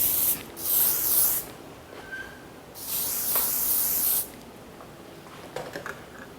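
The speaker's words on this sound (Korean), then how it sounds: "스프레이를 뿌려서 이제 고정" Two long hissing bursts of a small portable hair spray can fixing a cropped men's hairstyle, each lasting over a second, close and fairly loud, with quiet handling noises between and after.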